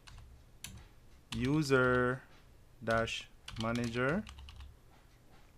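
Keyboard typing while a command is entered on a router terminal, with light clicks under a man's spoken instructions, which dominate the clip in several short phrases.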